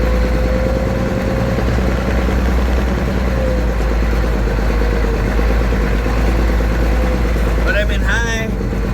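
Deuce and a half army truck engine labouring steadily up a steep hill in first gear with the front axle engaged, a loud constant low drone throughout, with a brief squeal or voice near the end.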